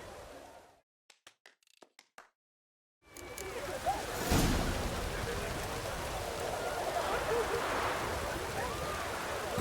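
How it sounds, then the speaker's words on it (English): Steady rain falls in the Witcher 3 Hearts of Stone game world, a dense, hissing patter that swells in after a few brief clicks and near-silence and then stays loud and continuous. "Looks like rain."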